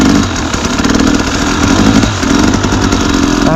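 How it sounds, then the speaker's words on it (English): A motorcycle engine warms up gently on a very cold, icy day, idling loud and close in a steady rough rumble with slight dips and rises in revs. "Just warming the bike up gently."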